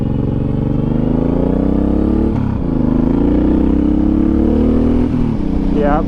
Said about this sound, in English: The exhaust even sounds a little snappier and poppier.